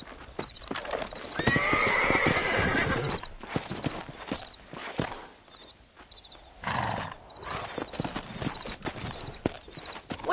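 Horses clip-clop along at a steady trot in a Western frontier game, hoofbeats close and continuous, with a horse whinnying partway through and sparse game sounds around them.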